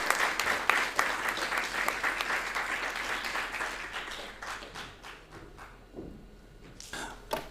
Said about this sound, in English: Give them a round of applause from you guys as they come onto the stage.